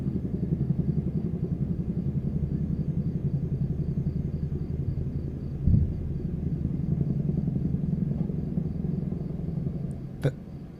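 A Chinook helicopter passing overhead on a hazy night, a long, loud, steady low rumble that holds for the whole stretch with a slight swell midway, crickets faint beneath it.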